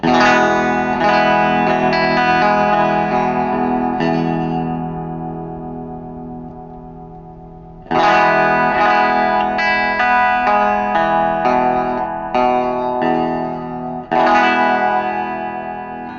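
Clean electric guitar through a Fender Frontman 15G amp with a Celestion Eight 15 speaker, strummed chords ringing out and fading, then a second and third phrase starting back up, bright and full.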